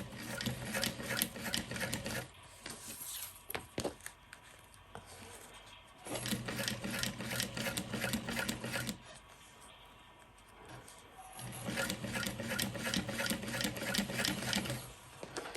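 Sewing machine basting piping onto a backpack, fast steady needle rattle in three long runs separated by short pauses, close and clear with no talking.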